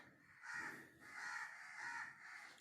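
Crows near a house giving three harsh caws in quick succession, faint and somewhat distant, alone without speech.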